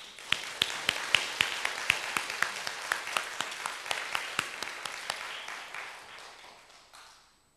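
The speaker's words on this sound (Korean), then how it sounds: "수고하신 분들을 위해서 한번 박수로" Rhythmic clapping from an audience thanking helpers at a Korean church gathering, sharp regular claps in unison that gradually fade out, ending in near silence.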